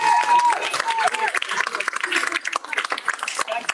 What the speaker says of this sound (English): Another amazing round of applause.